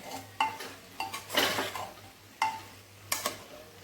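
Brinjal and potato are stirred in a pressure cooker, a spoon scraping and knocking against the metal pot in several separate, fairly close strokes with quiet gaps between them.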